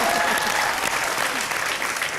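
Loud, dense applause from a TV comedy show studio audience greeting an actress, a continuous wash of clapping with faint crowd murmur beneath.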